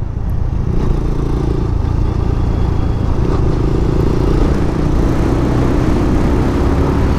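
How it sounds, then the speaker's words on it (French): A motorcycle ridden toward a beach, its engine droning loud and steady at close range with no talking. "ça fait vraiment plaisir de pouvoir refaire de la moto"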